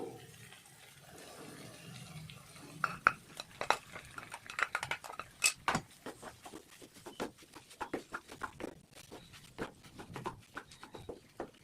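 Cooked rice is tipped into a pan of fried tomato masala and stirred with a metal spoon for tomato rice, producing repeated scraping and clanking against the pan, close up and without talk.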